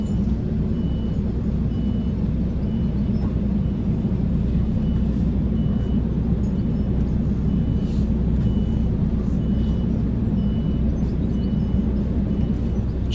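A loaded lorry reversing into a loading bay at a site, steady loud diesel engine rumble throughout with faint intermittent reversing beeps over it, no talking.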